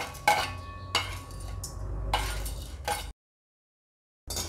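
Coriander seeds, cloves and peppercorns dry-roasting in a pan, stirred with quiet scraping and clinking strokes in short bursts, broken by a moment of silence.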